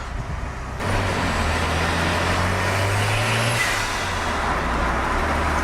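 A tuned Mazda RX-7 FD3S rotary engine drones loud and steady on the road, with a low humming tone that rises slightly and then settles, over constant road and wind noise.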